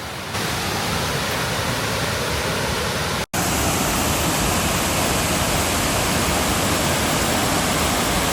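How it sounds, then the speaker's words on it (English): A waterfall pouring in a constant, dense roar of rushing water, loud and unbroken apart from a brief cut partway through. "I hear waterfalls."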